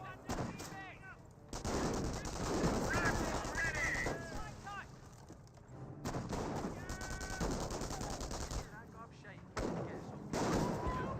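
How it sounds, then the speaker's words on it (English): Mortar rounds and rifle and machine-gun fire in the World War II strategy game Company of Heroes, repeated sharp bursts and booms in irregular clusters, with a voice talking over the battle. "Mortar, first round."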